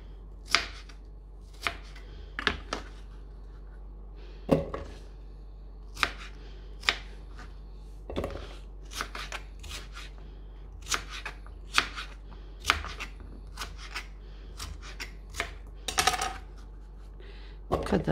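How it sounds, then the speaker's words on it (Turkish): A knife chops on a board in scattered sharp strikes, some single and some in quick bursts, close and crisp over a quiet background. "Hepsini doğrayayım şimdi."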